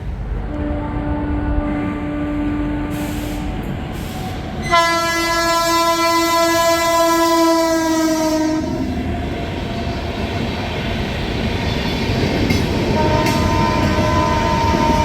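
A Grand Trunk Express train passes close by: a steady heavy rolling rumble, broken midway by a loud sustained horn blast of several seconds that then fades back into the roar of the passing cars.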